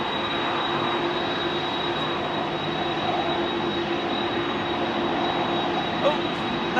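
Boeing 777 jet engines spooling up at foggy Heathrow, a loud, steady broadband roar with a sustained high whine, continuous and close throughout with no talk over it.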